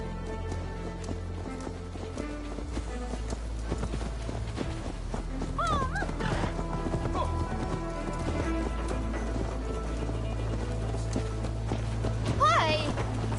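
Horse hooves clip-clop at a steady trot in Assassin's Creed Valhalla, moderately close under game music and ambience, with a brief whinny and voices talking over parts of it.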